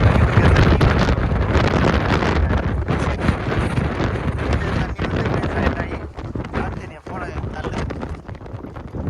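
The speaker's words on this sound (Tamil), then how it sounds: "காற்று பிக்குது, பயங்கரமாக இருக்குது." Strong wind buffets the microphone in loud, rough gusts, with a voice mixed in under the roaring noise.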